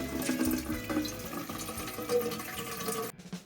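Water from a boiler mixer tap drains in a steady, close rushing flow with splashy fluctuations for about three seconds, then cuts off abruptly near the end.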